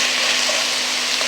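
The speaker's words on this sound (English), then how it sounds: "I wanted the peppers and stuff to hit that hot pan" Onions, garlic, peppers and tofu sizzle in a hot pan, a steady close frying hiss that stays even and loud from start to finish.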